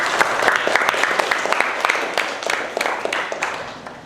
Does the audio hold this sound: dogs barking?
no